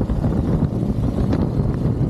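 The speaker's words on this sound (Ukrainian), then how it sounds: "Сьогодні дуже сильний вітер" Strong wind on a Dnipro riverbank roars steadily against the microphone, a constant low buffeting rumble with no other sounds standing out.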